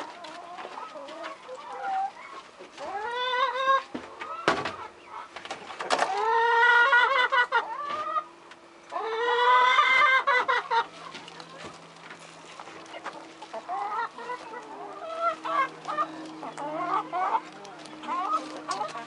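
Chickens cluck and squawk close by in irregular bursts, some rising into loud cackles, while a person talks quietly at times.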